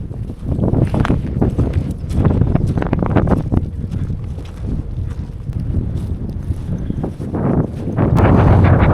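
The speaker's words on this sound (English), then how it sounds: "the wind is quite intense" Strong wind buffets the microphone at a campsite, a loud, continuous low rumble with gusts rising and falling throughout and swelling again near the end.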